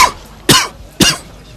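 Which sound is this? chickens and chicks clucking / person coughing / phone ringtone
person coughing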